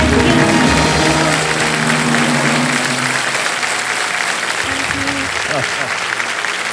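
Studio audience on a quiz show bursts into steady, dense clapping, loud and close, holding for several seconds with a few voices rising briefly over it.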